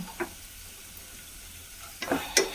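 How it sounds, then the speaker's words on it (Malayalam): Coconut pieces fry in hot ghee and coconut oil with a soft, steady sizzle, broken by a few sharp stirring clinks and pops near the end. "നെയ്യും വെളിച്ചെണ്ണയും കൂടിയാണ് ഒഴിച്ചിട്ടുള്ളത്. അപ്പോൾ അത് ചൂടായപ്പോൾ നമ്മൾ നാളികേരക്കൊത്തിട്ട് കൊടുത്തു."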